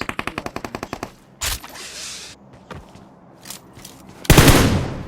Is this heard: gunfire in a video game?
yes